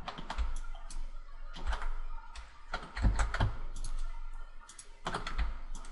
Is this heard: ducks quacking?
no